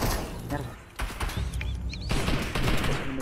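Gunfire in the Fortnite video game, a Search and Destroy match, with bursts of rapid shots crackling through the clip under and between spoken voices.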